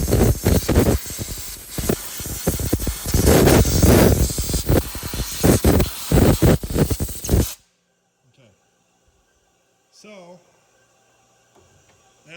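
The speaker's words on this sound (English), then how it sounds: "grab yourself some compressed air. And you want to spray all that nonsense on there" Compressed air blasts into the engine bay of a 2005–2010 Mustang GT with the 4.6L 3V V8, a loud, harsh hiss in bursts for about seven seconds, then near silence with faint handling noises.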